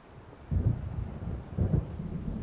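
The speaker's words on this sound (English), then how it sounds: "It seems there's a storm coming." Low rolling thunder from an approaching storm in the video game Alan Wake, two deep rumbling swells over a faint windy background.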